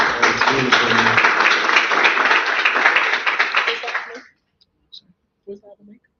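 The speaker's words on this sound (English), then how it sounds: "Give him another round of applause, guys." Conference audience applause, a dense sustained round of clapping from a crowd that rolls on for about four seconds and then stops abruptly, followed by a few faint scattered sounds.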